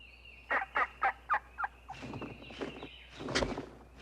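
Wild turkey tom gobbling in a mating display: five loud, evenly spaced gobbles ring out close by, followed by a rougher stretch of rustling, calls and scuffling.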